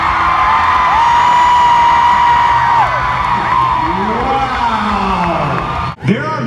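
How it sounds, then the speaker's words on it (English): A large crowd at the VidCon main stage screams and cheers in a continuous shrill roar, loud throughout with a brief dip near the end. "Tyler Oakley introduced VidCon, and there was screaming."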